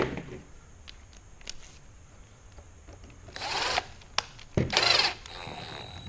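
A power drill driving a screw into a Traxxas MAXX RC car hub whirs in two short bursts near the end, preceded by quiet clicks and taps, close and moderately loud.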